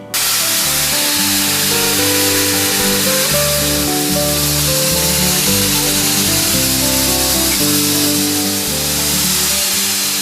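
Metal is sandblasted down to white metal with garnet abrasive to strip corrosion at Fort Jefferson, a loud continuous hissing roar with steady droning tones underneath, unbroken throughout.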